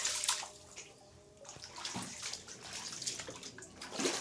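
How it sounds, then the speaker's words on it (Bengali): Water in a flooded house sloshing and splashing across the floor, with soft irregular splashes and trickling close by and no talk. "এই দেখো জল, দেখো জল দেখতে পাচ্ছ"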